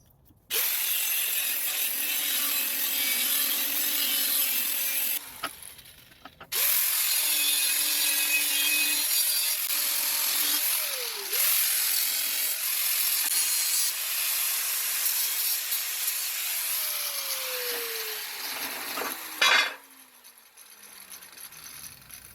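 A power tool cuts sheet metal for storage boxes on a 1973 GMC Astro cabover semi, a loud steady grinding hiss in long runs broken by short pauses, ending in quiet.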